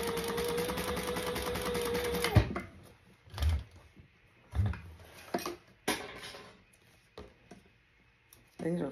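A sewing machine stitches folded fabric to tape at a window panel, its motor whining steadily for a couple of seconds before stopping, followed by quieter clicks and soft handling thumps.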